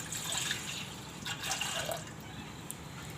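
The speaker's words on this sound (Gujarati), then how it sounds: "અને આપણે આ દૂધ નાખશું" Milk poured into a pan already holding a spoonful of water, heating for a date-milk drink: a soft, continuous liquid splashing and trickling, close and fairly quiet, with no voices.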